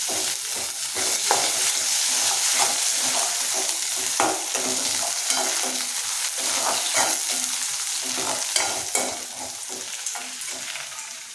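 Onions and curry leaves sizzle and crackle steadily in hot oil, with occasional stirring scrapes and clinks, close and continuous with no talking.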